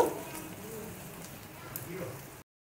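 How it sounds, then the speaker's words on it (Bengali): Chopped onion frying and being stirred in a pan, a soft steady sizzle with a faint crackle running throughout, close and fairly quiet, with no talking. "পেঁয়াজটা বেশ করে নেড়ে নেব, হালকা ভাজা করব।"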